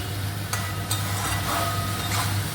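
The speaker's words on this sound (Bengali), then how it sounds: "ঘি দিয়ে এরকমভাবে নেড়ে চেড়ে নামিয়ে দিচ্ছি" Ghee-coated pointed gourd and raisin curry being stirred in a pan, giving a steady low sizzle with a few sharp scrapes of the spoon against the metal, close and alone.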